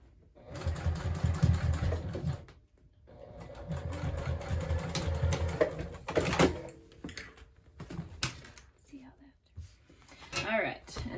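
A sewing machine strains through thick crossbody bag fabric in two close, steady bursts of a few seconds each, separated by a short pause, followed by scattered handling clatter and soft noises.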